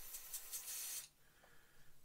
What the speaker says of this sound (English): Spray off to one side.